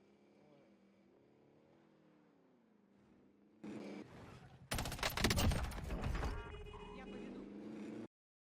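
Call of Duty Warzone gameplay with rapid gunfire bursting in after quiet game ambience, a dense loud volley at the midpoint over vehicle rumble, stopping abruptly at the end.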